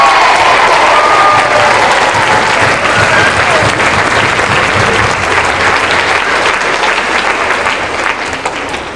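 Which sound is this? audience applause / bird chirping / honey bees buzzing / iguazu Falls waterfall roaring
audience applause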